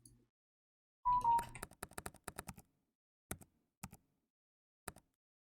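Key clacks from the Opera web browser's typing sounds come as a quick burst of light clicks, then a few sparse single taps with pauses, alone and fairly close.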